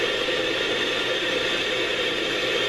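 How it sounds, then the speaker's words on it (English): Steady hiss of white noise from a sleep machine, an even, unbroken wash of static played up close with no other sound. "We have the white noise."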